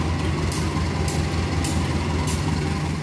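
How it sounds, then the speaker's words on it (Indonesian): The Fajar Utama Solo train pulls out of Tugu Yogyakarta station with a steady, loud low rumble, and faint periodic clanks from the wheels come through over the droning engine. "Ada kereta api yang berangkat dari stasiun Tugu Yogyakarta tuh."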